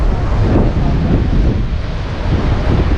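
Ocean surf breaking at Kanyakumari on the Bay of Bengal shore, where it meets the Arabian Sea and Indian Ocean, a steady loud wash of waves mixed with gusting wind buffeting the microphone.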